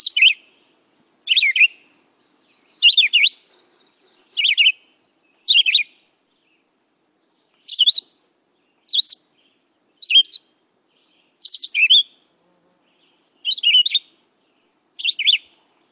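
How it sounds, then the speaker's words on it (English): A recorded chestnut-sided warbler sings about a dozen short, bright phrases, evenly spaced over clean silence, with no voices in between. "For those who said chestnut-sided warbler, you can do a chestnut-sided warbler mimic."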